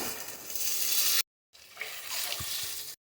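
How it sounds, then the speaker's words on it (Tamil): Water is poured from a tumbler into a pot of rice for tomato rice, a steady splashing pour that breaks off briefly and then resumes with gurgling. "அதே டம்ளரில் 4 டம்ளர் தண்ணி சேர்த்துக்கோங்க"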